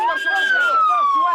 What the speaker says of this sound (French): Les ambulances évacuent en pagaille les rares blessés.